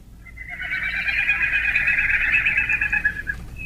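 A sustained, high-pitched bird call with a rapid ticking, trilling quality holds steady for about three seconds against a faint background hiss.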